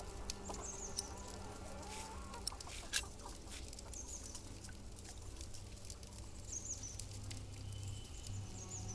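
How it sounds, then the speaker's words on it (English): A chicken clucks faintly in the medieval Pillars of the Earth video game, with soft scattered clucks over a low ambient background. "Oh look, a chicken."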